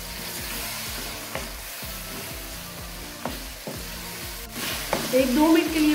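Spices and tomatoes fry in a karahi for Lahori beef karahi, giving a continuous close sizzle with occasional stirring scrapes and a louder burst of crackling near the end.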